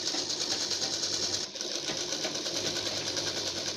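Close, continuous whir and rapid clatter of a sewing machine stitching a garment neckline along the buckram edge, with only a brief dip in the steady run.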